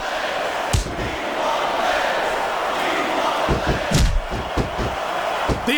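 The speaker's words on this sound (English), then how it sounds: "The crowd is coming alive." Wrestling arena crowd in WWE SmackDown vs. Raw 2006 roars as a steady, dense wash of noise during a submission match between Stacy and Orlando, punctuated by several dull ring impacts and slams.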